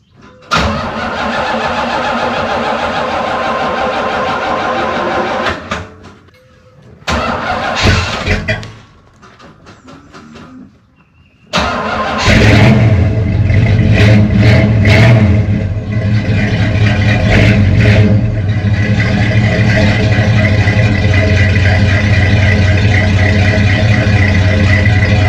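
A 1977 Pontiac Trans Am with a 455 V8 and four-speed cranks several times with pauses between attempts, then fires up and settles into a loud, steady, close-up idle with occasional revs.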